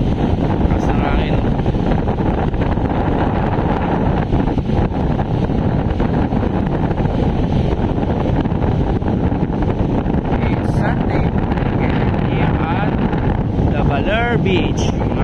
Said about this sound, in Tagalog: Sigurado mahugong ang video na to dahil nga napakalakas nga ng hangin.